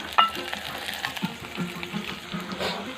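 Pork frying in a small wok, a steady close sizzle with a sharp hiss near the start and light clatter of stirring throughout, heard alone without voices.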